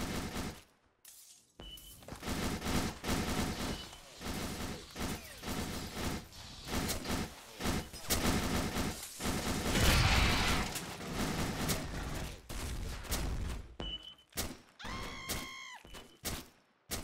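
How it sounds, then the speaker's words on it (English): Rapid automatic HBR gunfire in the SS13 Colonial Marines video game, loud bursts of dense shots with thuds and mechanical clatter filling most of the stretch, briefly pausing then resuming. "He's shooting a HBR? Is that what they sound like now?"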